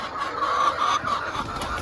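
Hens in a henhouse cluck continuously in a busy, overlapping murmur, with one higher call rising above the steady background at close range.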